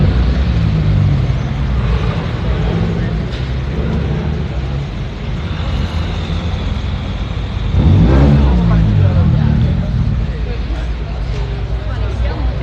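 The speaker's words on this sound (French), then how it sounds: "Le véhicule que vous entendez, c'est une Nissan. Non, c'est une Honda." A Honda car with a modified exhaust revs loudly nearby in a Monaco street setting, a steady engine drone swelling into a stronger rev partway through, with people talking over it.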